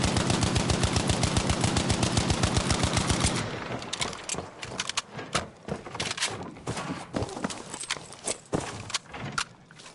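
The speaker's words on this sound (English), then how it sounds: "Now I'm going to shoot as fast as I can." Rapid full-auto gunfire in Battlefield V, a dense, even stream of shots for about three seconds, then sparser, irregular bursts and single cracks, close and loud.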